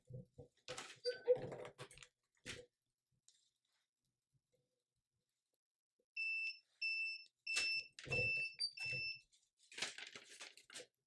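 The timer on a tumbler sublimation press goes off, sounding a series of short, evenly spaced high beeps at moderate level, with handling noises and bits of talk before and after.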